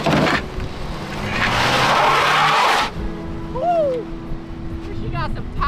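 A Cadillac rock crawling roars as it accelerates hard over rocks, engine loud and close, with tires scrubbing and squealing in bursts before the revving drops back to an idle under faint voices.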